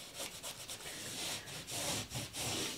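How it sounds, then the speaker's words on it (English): A microfiber rag rubs and sands a fresh drywall patch along its edges, giving a close, steady scrubbing swish in repeated strokes with short pauses, no talk. "And actually I'm gonna go ahead and sand with the rag."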